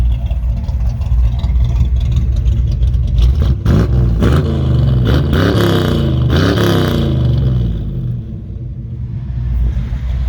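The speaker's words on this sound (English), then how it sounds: "Classic small block Chevy noises for your earballs." A cammed small block Chevy V8 in a restored classic truck idles with a lumpy rumble, then blips its revs several times in quick rising bursts before settling back to a loud idle.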